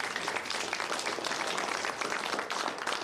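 Packers fans at a team Fan Hall of Fame event give a dense, continuous round of applause, a broad wash of many hands clapping at once with no speech over it.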